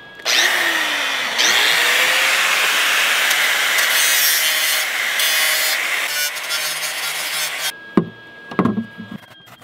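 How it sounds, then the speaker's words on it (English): Electric welding powered by a Jackery 3000 Pro power station gives a steady, loud, crackling buzz for several seconds, then stops abruptly and is followed by a few clanks. "We're gonna try welding it with the Jackery."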